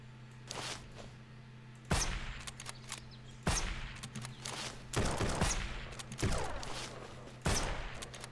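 Gunshots in the zombie survival game SurrounDead, five or six sharp cracks spaced a second or two apart, each with a short decaying tail over a steady low hum, fairly close.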